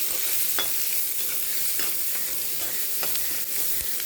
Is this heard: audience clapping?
no